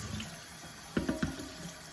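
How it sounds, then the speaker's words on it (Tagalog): Cabbage is rinsed under a steadily running kitchen tap, with water hissing into a sink and a few soft splashes and knocks as the leaves are handled, close and continuous. "Hugasan ko muna po yung cabbage ko."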